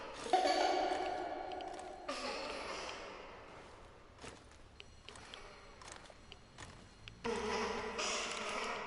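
An old telephone rings in the Chernobylite video game, heard as bright, buzzy bursts at the start and end of the clip with quieter, echoing ambience in between.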